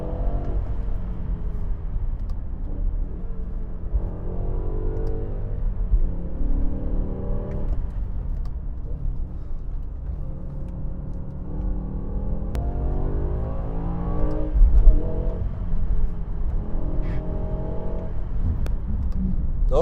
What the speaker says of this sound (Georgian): ცოტა უნდა გავიარო ამ მანქანით, რომ მივხვდე რაზე მოგიყვეთ.